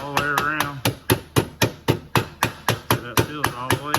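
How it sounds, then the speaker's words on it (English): A rubber hammer taps a rear wheel bearing seal into the hub of a Honda TRX90 ATV, giving a steady run of about a dozen sharp, close knocks with a voice speaking between and over them. "you just tap it all the way around till it goes in there"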